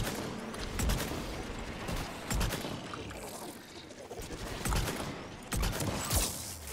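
Gunfire in Mass Effect 3 multiplayer: repeated sharp shots about once a second with dense battle noise in between, loud and close.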